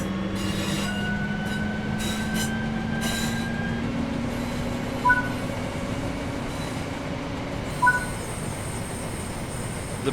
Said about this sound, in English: The British Rail Class 323 is an electric multiple unit passenger train